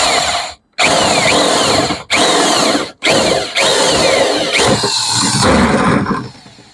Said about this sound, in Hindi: इसके लिए आपको यहाँ पर ड्रिल को थोड़ी सी धीरे धीरे ही चलानी है